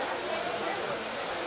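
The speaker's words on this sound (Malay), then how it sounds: "runtuhan hujan" Steady rain falls across a primary school football pitch in Shah Alam before a youth match, a dense, even hiss that holds unbroken throughout.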